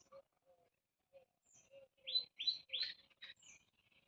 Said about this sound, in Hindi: देखिए चिड़िया भी चहक रही हैं,